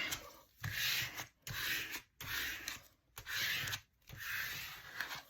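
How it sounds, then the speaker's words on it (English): An old card is dragged firmly over glue along a journal spine, giving four steady, close scraping strokes with brief silent gaps between each pass. "I just want to make sure all the glue is smoothed out all the way down the spine."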